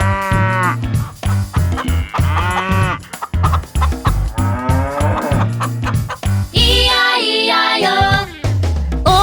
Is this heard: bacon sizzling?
no